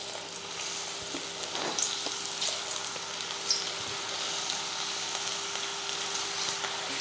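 Cassava chips fry in hot oil with a steady, dense crackling sizzle and occasional sharper pops, close and even throughout, over a faint constant hum.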